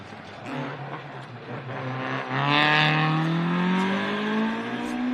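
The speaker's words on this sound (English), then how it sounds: "BDA Escort. The revs, the sideways, the rallying theatre. Oh, just listen to it." A BDA Ford Escort rally car's engine revs hard and climbs in pitch as it accelerates past on a tarmac stage at Rally Bay of Plenty, New Zealand, loud and close, with a rasping exhaust note.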